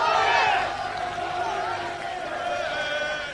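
A large crowd of about 5,300 roars and cheers at an FA Cup tie between Dagenham & Redbridge and Leyton Orient, a dense, loud, continuous wash of voices peaking at the start and then holding steady.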